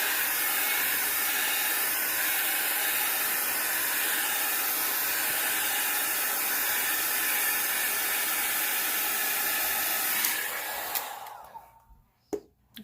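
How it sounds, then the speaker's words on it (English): A handheld hair dryer blows steadily and loudly on alcohol ink for about ten seconds with a broad rushing hiss, then cuts off, leaving a few faint clicks. "take your dryer and dry it."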